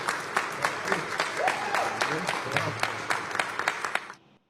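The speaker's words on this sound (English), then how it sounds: "look at the whooping and cheering over there" A crowd at a street gathering applauds and cheers, scattered sharp claps rising over a steady murmur, with talking mixed in before the sound cuts off abruptly.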